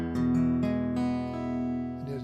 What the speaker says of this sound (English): Here's the major one, happy